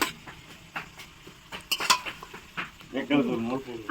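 Braised desi chicken, kosha mangsho, is scooped out of a cooking pot, with close metal utensil scrapes and clinks against the pot and a soft sizzle, while a voice talks briefly near the end.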